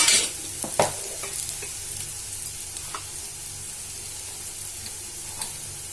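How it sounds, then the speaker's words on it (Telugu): Mustard and cumin seeds sizzle steadily in hot oil in a pan for a home-style tempering, a constant close hiss with a few small pops and clicks and no talking. "ఇప్పుడు తాలింపు వేసుకుంటానండి."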